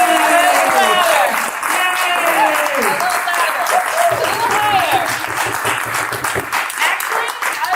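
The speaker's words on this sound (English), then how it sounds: "Everybody, how about a round of applause?" An audience claps and cheers in a room, with sustained applause swelling and thinning over several seconds while voices call out over it.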